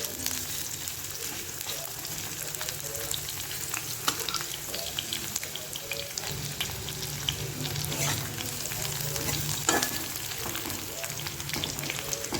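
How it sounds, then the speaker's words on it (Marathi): Onion frying in hot oil for a traditional Maharashtrian drumstick curry, a dense, steady crackling sizzle heard close and continuous, with occasional faint stirring scrapes. "तेल तापल्यावर आता आपण यामध्ये कांदा घालणार आहोत"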